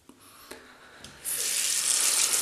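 A razor is rinsed under a running bathroom tap during a wet shave with shaving soap. A few small clicks come first, then the water bursts on and keeps gushing, loud and close, with no talking.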